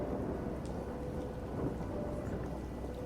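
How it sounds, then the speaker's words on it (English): Light rain falls with a breeze moving through the trees of a cemetery, a soft, even wash of hiss and low rumble throughout, no talking. "There's a light rain, there's a breeze blowing through the trees."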